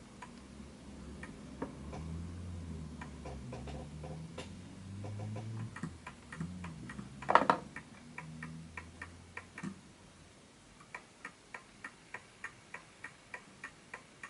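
An oak-cased Smiths Enfield pendulum mantel clock ticks in an even, steady rhythm, faint and close, at first partly covered by low handling and rustling sounds, then clear and alone toward the end.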